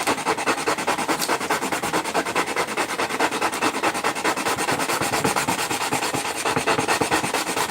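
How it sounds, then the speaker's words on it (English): Wood sanded by hand with rough, rhythmic back-and-forth strokes, close and steady for the whole stretch, with no talking. "I always hated sanding manually"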